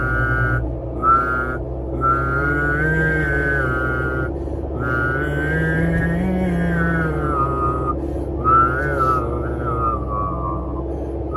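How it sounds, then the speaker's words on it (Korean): One person produces a sung vocal tone and a lip whistle simultaneously, a steady high whistle held over a lower voiced note, gliding and pausing in several phrases, close and alone without speech. "성대에서 나오는 소리하고 입술에서 나오는 휘바람하고 두 개를 동시에 냈어요"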